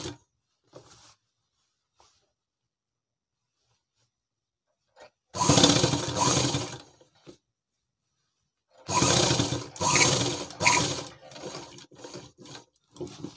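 A sewing machine stitches a girls' school dress in two bursts of rapid mechanical whirring and clatter, close and fairly loud, separated by quiet pauses with faint handling noises.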